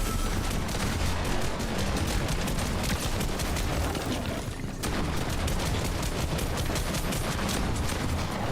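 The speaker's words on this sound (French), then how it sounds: "ce qui est une sauvagerie, c'est que tout le monde me tire dessus" Dense, rapid gunfire fills a chaotic video game box fight at close range. Shots fire in near-constant bursts, with a brief lull midway before the volleys resume.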